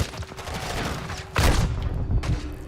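Call of Duty gunfire from a player's weapon during a competitive match, a dense burst of rapid shots up close, loud and sustained with sharp cracks, plus a later second burst.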